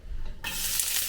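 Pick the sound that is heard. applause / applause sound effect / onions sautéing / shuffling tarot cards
onions sautéing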